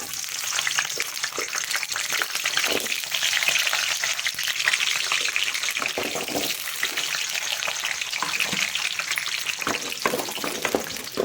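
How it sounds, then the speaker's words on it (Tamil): Steady crackling sizzle of onions frying in hot oil for chicken gravy, continuous and close, with occasional stirring scrapes and no voices. "எண்ணெய் வந்து சூடாயிருச்சு. நம்ம எடுத்து வச்சிருக்கேன். நம்ம வெங்காயம் போட்டுக்கலாம்."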